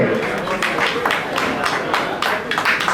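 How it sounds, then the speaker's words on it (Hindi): An audience at an electronics dealer meet in Bharatpur breaks into loud, dense applause, with surging bursts of clapping filling the hall. Speech is mixed in with the clapping. "जोरदार तालियां इनके लिए"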